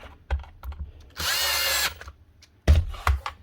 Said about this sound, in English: Lastly, tighten up these two screws